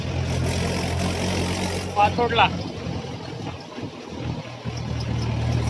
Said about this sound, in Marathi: पूर्ण 25 किलोमीटरचा प्रवास आहे आपल्या ट्रॅक्टरचा.